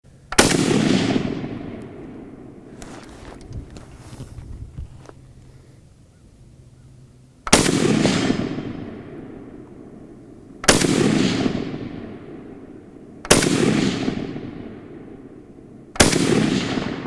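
A 1946 Madsen light machine gun firing outdoors, with five loud, sharp blasts or short bursts spaced a few seconds apart, each one followed by a long echoing decay.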